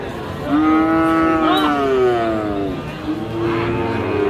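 A Friesian cross heifer calf at Raniganj cattle market in Dinajpur gives two long, close moos, the first drawn out, over a steady background murmur of the market.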